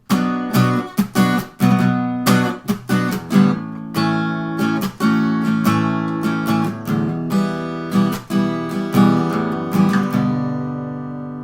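Guitar strums through the interlude chords of a song, steady rhythmic strokes ringing full and close, played alone with no voices.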